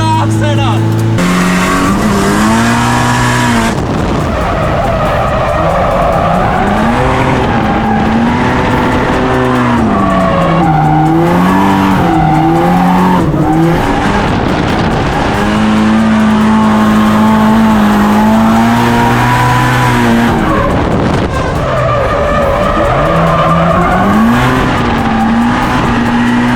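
An SR-engined drift car skids around Winton, its engine howling and wavering as it revs up and down, tyres squealing beneath. The sound is loud and continuous, with the pitch of the engine rising and falling through the whole run.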